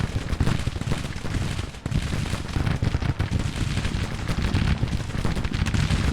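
American Civil War troops firing muskets in Grand Tactician: The Civil War, a dense unbroken rolling crackle of volleys from many guns, loud and continuous, with no talking.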